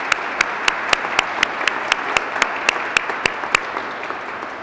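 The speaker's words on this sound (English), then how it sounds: "I think that's worth a round of applause." An audience at a Superfund grant announcement event claps steadily, with sharp individual claps standing out above the dense applause and no voices over it.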